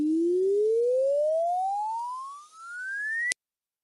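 A single pure tone sonifying a straight-line graph glides steadily upward in pitch over about three seconds, then cuts off abruptly with a click, heard alone.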